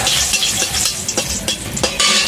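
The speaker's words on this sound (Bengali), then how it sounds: "শুকনো লঙ্কা দিয়ে দেবো।" Dried red chilies sizzle in hot mustard oil in a wok for tempering, a short burst of bright, crackling frying with a few stirring scrapes, close and fairly loud.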